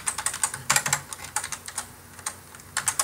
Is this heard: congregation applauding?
no